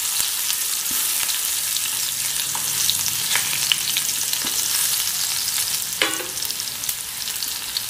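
Cumin and crushed garlic tempering in hot oil for a fenugreek-leaf usal, giving a steady, dense sizzle with a few sharp crackles and pops throughout, close and alone without talk.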